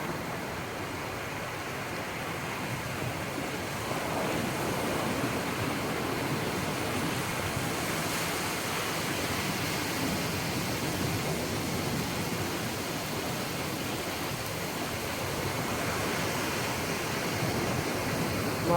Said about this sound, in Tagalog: Grabe, lakas ng alon, no?